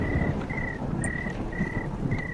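Rain pours steadily with a rolling thunder rumble in the Roblox horror game Alas Roban. The noise is dense and continuous, and a repeating electronic beep pulses over it at regular intervals.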